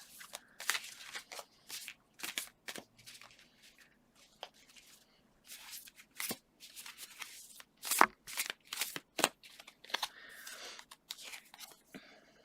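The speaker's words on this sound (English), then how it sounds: "I'm going to pull a few more cards, see if there's some more messages we need." Tarot cards are shuffled and pulled in a Neopets-themed reading, giving a string of close, soft card slaps and riffles in irregular bursts over a quiet background.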